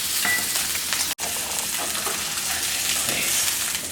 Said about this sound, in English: A nice calm sizzle.